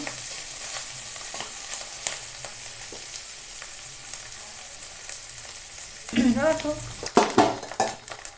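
Hilsa fish roe sizzles and crackles steadily in hot oil, then a spoon stirs and scrapes the pan in a few clattering bursts.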